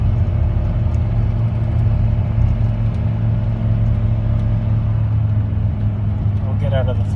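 A car engine held at full throttle, a steady low droning rumble that stays loud and even throughout, with no real rise in pitch as the car pulls slowly.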